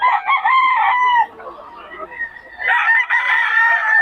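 An 8-month-old gamecock stag crows up close, a loud drawn-out call followed by a short pause and a second crow.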